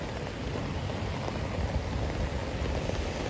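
Floodwater rushing through the swollen Riacho dos Machados creek, a dense, continuous broadband roar like heavy rain, steady and close with no voices.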